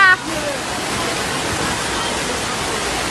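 Floodwater rushes in a steady, loud roar during flooding in Jamaica, a continuous broadband wash that fills the whole stretch after a brief opening sound.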